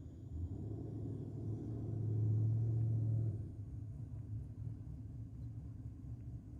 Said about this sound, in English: And BMW doesn't want to do a burnout.